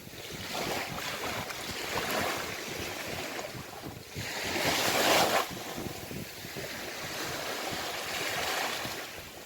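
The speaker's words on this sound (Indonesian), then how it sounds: "Inilah laut, sangat indah, tenang" Sea waves wash onto a calm tropical beach in steady surges, with wind buffeting the microphone and the surf swelling louder midway through, no one talking.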